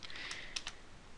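Typing on a computer keyboard while setting up a Linux server, a brief run of a few close key clicks over faint background hiss.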